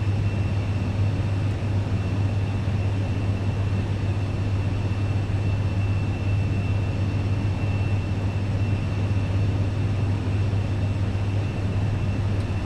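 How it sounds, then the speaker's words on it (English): An aircraft engine in Microsoft Flight Simulator 2020 powers up on the runway at Asheville, North Carolina, before takeoff, holding a steady, loud, continuous drone with a low hum throughout and no voices. "we're gonna go ahead and just power up here"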